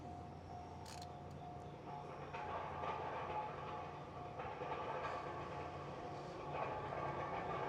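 A train heard at night from a trackside spot, its low rumbling engine and rail noise steady and building slightly in loudness, with a faint high hiss over a continuous drone.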